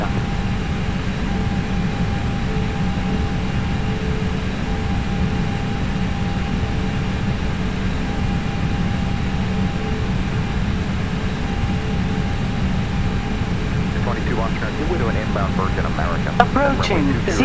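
Steady, loud jet engine hum from an Airbus A320 in a flight simulator game fills the whole stretch without a break. A few faint clicks come near the end.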